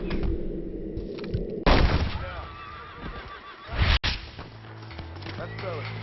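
Gunfire in the Western game Red Dead Redemption: a sharp shot cracks out mid-clip and another follows a couple of seconds later, alongside a horse whinny, with talking throughout.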